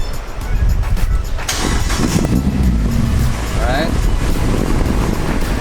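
A Mazda Miata engine runs steadily at idle in the car, a constant low rumble with a brief whine partway through, and a voice speaks briefly over it.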